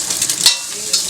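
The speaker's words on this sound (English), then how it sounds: "So basically your garlic is frying." Garlic and a cracked egg frying in a pan for Pad Thai give a steady close sizzle, with brief scraping stirs of a spatula breaking through.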